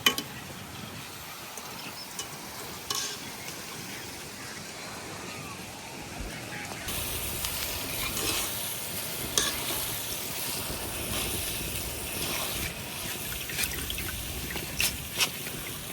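Boondi batter drops frying in hot oil, a steady soft sizzle and crackle that carries on evenly throughout, close by with no talk.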